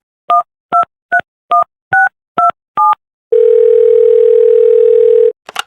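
Seven crisp touch-tone beeps of a telephone being dialed in a steady rhythm, then a loud continuous ringback-style tone for two seconds before a short click, all close and without talk.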